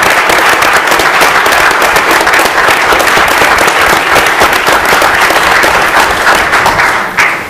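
Dense, steady applause from an audience at a Washington event honoring the 2014 State Teachers of the Year, sustained throughout and tapering slightly at the end.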